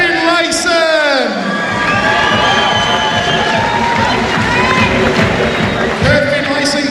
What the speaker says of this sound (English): And let's give a round of applause for Kurt Fiinlayson.